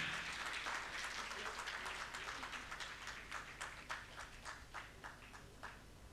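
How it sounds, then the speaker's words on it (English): Faint clapping from the audience at a conference inaugural ceremony, individual hand claps distinct and tapering off toward the end, with a voice speaking faintly in the background. "May we have a big round of applause, ladies and gentlemen."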